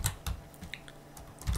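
Several quick, close keystrokes on a computer keyboard, a short burst of clicks at the start and another at the end with lighter taps between, no speech.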